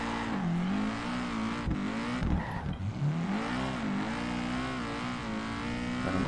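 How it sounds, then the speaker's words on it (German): A game car in Peak Angle slides through a handbrake drift, its engine revving in rising and falling sweeps with a brief tire-scrub burst midway, loud and continuous. "Ja, war eine gekonnte Handbremsrutschung."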